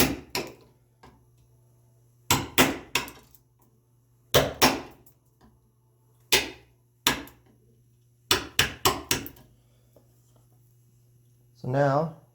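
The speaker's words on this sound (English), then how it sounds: "I'm definitely going to use my hammer" Sharp hammer strikes, made while building a cabinet scraper, land in scattered groups of two to four, fairly faint with quiet gaps and a low hum between blows, then a short voice.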